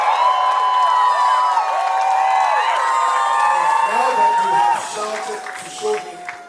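A Lagos finance conference audience shouts and cheers together in a loud, sustained roar of overlapping voices that gradually fades, with some scattered whoops near the end.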